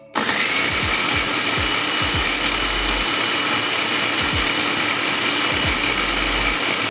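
Electric grinder pulverizing dried onion into powder, a steady loud whirring motor with short pulsing bursts and rattling of pieces inside the closed container, running continuously for several seconds.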